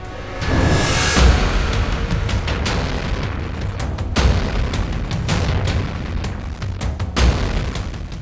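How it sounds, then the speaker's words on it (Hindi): Russian Kalibr cruise missile launches fired toward Kyiv, heavy booming blasts at roughly three-second intervals, each a loud broad roar that decays into rumbling noise. "ये रूस की कलिब क्रूज मिसाइल है जो रूस लगातार यूक्रेन पर फायर करता रहा है।"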